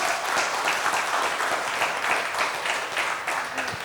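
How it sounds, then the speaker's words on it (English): Steady, dense audience applause fills a conference hall at a national trainers and speakers conference, a continuous wash of many hands clapping at an even level throughout. "Big round of applause."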